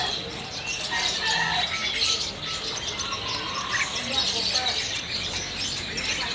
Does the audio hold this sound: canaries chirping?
yes